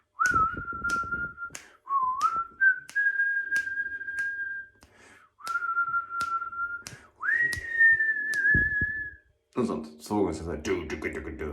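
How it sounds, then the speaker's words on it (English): A person whistles a wavering tune in long sustained notes with slight pitch slides, broken by a few clicks and short pauses, ending with a louder rustle. "started a video recording of me, whistling in completely out of time and out of tune into the camera"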